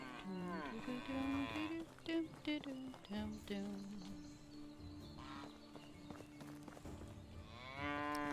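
Cattle in the Medieval Dynasty video game give several loud, drawn-out moos near the start and again at the end, with quieter farm ambience between them.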